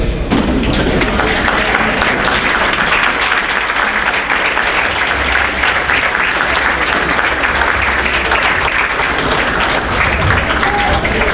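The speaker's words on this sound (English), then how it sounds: "give your parents a much-deserved standing ovation" Student athletes give their parents a standing ovation at a spring sports awards ceremony, with dense sustained applause from a large audience filling the room throughout, thumps and cheers mixed in.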